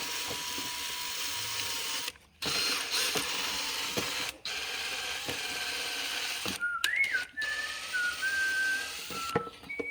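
A hand ratchet tightening bolts on a Razor MX400 electric dirt bike: rapid clicking pawl bursts in several separate runs, close and fairly faint, broken by short pauses and a few squeaky whistling tones, with no talking.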